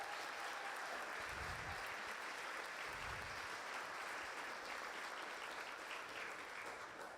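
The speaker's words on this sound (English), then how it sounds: "Please give them another round of applause." A crowd at a senior of the year awards event applauds the nominees, steady dense clapping from a large audience heard at moderate distance, with a couple of low thumps early on.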